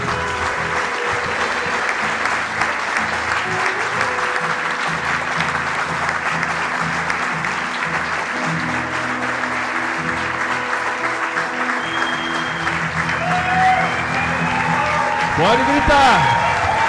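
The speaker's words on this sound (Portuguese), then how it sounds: "Vamos dar uma salva de palmas para Deus." Church congregation at a Baptist thanksgiving service applauding, sustained broad clapping from a crowd, with a voice and musical tones continuing over it and a brief rising tone near the end.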